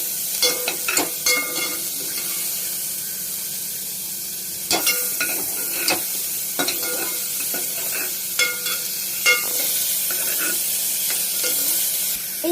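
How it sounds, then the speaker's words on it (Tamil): Chopped onion sautés steadily in a pan for carrot soup, a continuous close sizzle broken by regular scraping and tapping from a stirring spoon. "ஆனியன் இப்போ நம்ம போடலாம் இது நல்லா வதக்கலாம்"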